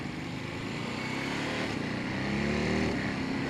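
A Ducati Monster motorcycle engine runs at a steady, close, loud drone while the bike turns slowly, with a slight rise in revs toward the end.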